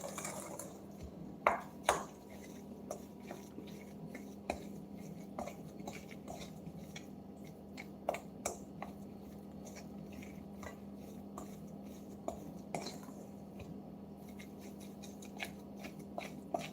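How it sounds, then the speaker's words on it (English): A spatula works butter into flour in a bowl for waffle dough, producing faint, irregular scraping and soft clicks against the bowl over a low steady hum, with a few sharper taps scattered throughout. "I added now the butter to the flour. So that is just all what you should do. Just keep moving it like this, just with your spatula"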